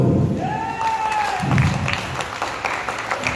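An audience at a seminar in Pathankot claps together in steady, sustained applause, a dense crowd sound with a faint tonal whistle running through it and no talk over it.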